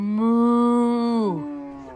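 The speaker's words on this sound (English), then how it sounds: "What does a cow say?" A cow gives one long, close, sustained moo that slides downward in pitch near the end and fades out.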